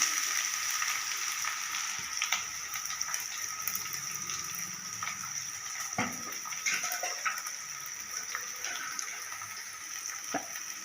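Continuous hiss and crackle of sliced bitter gourd frying in a hot pan, steady and close, with occasional soft clinks of stirring and no talking.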